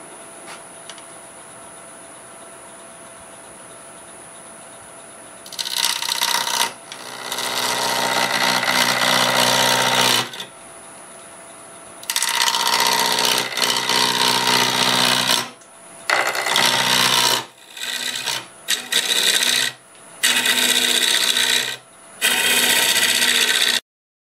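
A lathe gouge cuts a Spanish olive wood bowl spinning at about 900 RPM, working the wings, in repeated loud bursts of broadband scraping separated by short pauses over a steady motor hum.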